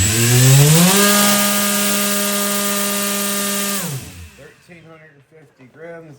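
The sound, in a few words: RC motor spinning a 9-inch folding propeller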